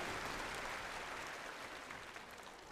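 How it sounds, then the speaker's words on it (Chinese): Steady, even applause from a studio audience at a televised Chinese singing competition, heard alone and fairly soft, continuing throughout without pause. "好，掌声有请"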